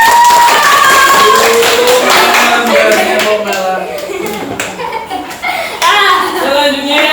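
A classroom of children claps in a quick burst of hand taps, with kids' voices and singsong chatter woven through and over the clapping.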